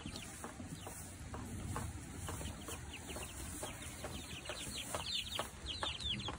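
Chickens cluck in short, repeated calls against a steady outdoor noise, moderately close, on a pepper farm in Japan in the rain.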